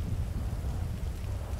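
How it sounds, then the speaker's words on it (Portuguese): Heavy rain in the video game GTA 5 pouring down over a coastal city, a dense low rumbling wash with a gusty, thundery undertone throughout. "Olha a chuva, olha como é que tá."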